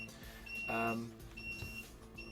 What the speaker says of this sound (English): it's beeping at me because one of the fans is now reporting a 0 RPM